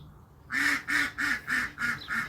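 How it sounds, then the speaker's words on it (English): Ducks quack from across an outdoor bushcraft site, six evenly spaced nasal calls in steady rhythm, moderately close and clear over quiet background, with no talking. "That's our ducks over there saying hello."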